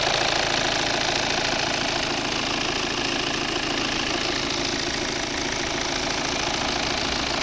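A 2016 Volvo V60 2.0 D4 diesel engine idles steadily with a dense, even rumble and a faint knocking rattle, running on with no pauses or voices.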